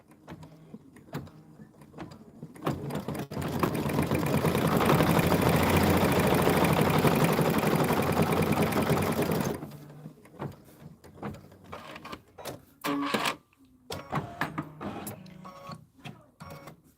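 A home sewing machine stitches a quilted mug rug in one loud, continuous mechanical whir lasting several seconds, set between quieter clicks and handling sounds before and after.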